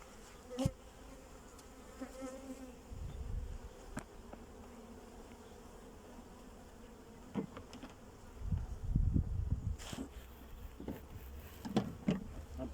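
Honey bees buzzing steadily at close range during a honey harvest in Ankara, a continuous droning hum with occasional louder passes and faint background bumps.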